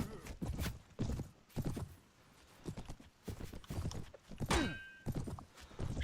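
Horse hooves pounding in rhythmic clip-clop bursts during a mounted battle in the Prophesy of Pendor game, loud and close, broken by brief gaps, with someone talking at times.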